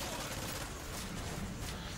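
Gunfire from a weapon in Call of Duty: Modern Warfare 3, a dense continuous burst of rapid shots, fairly faint and muffled, sustained across the whole moment.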